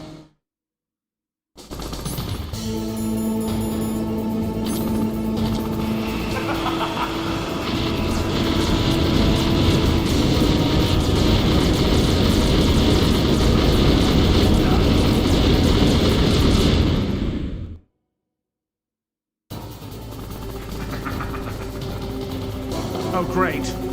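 A Hind D helicopter in the Metal Gear Solid video game thunders with a heavy sustained rotor drone mixed with rapid machine-gun fire, loud and continuous for about sixteen seconds, then cuts to silence before the roar resumes.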